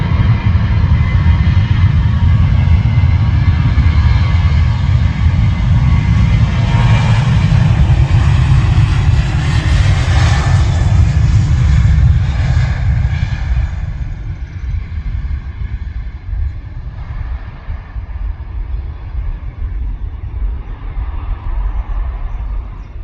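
A Ryanair Boeing 737 takes off at full thrust, heard from an airport viewing area as a deep, loud rumbling roar that builds, peaks, then slowly fades as the jet climbs away.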